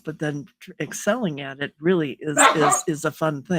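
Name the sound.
dog barking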